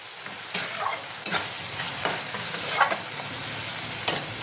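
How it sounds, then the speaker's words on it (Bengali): Bori lentil dumplings sautéed with potatoes and spices in a pan, a steady loud sizzle broken by repeated stirring scrapes about every second, with no voices. "বড়িগুলোতে আমি একটু কষিয়ে নেব"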